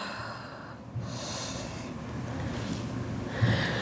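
A deep breath out during an aerial yoga deep-stretch class, with soft airy inhales and exhales and a brief nasal snort-like push of air, close and quiet with no talking.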